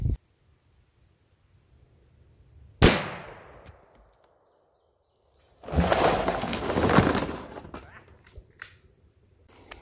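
A single loud 8mm rifle shot at an aluminum block outdoors cracks sharply and echoes as it fades. A few seconds later comes a longer, rougher burst of noise.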